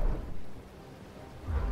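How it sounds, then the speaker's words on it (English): Low thunder from a thunderstorm in the video game Myths Of The World rumbles, fades to a quieter stretch of rain, then swells again near the end, with no talking. "The thunder has just been unrelentless."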